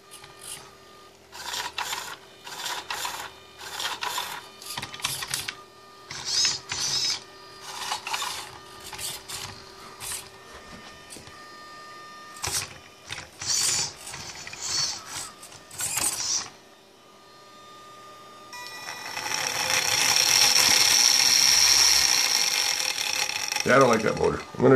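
Scraping and rattling handling noises come in bursts, then a small 12-volt electric motor whirs steadily with a high whine near the end.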